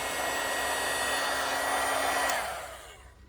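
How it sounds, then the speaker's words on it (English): A heat gun blows steadily while melting wax on rhea and emu eggs, a close, loud whooshing hum that holds for a few seconds and then winds down and fades as it switches off. "One thing with the heat gun, the eggs get very, very hot as you work on them."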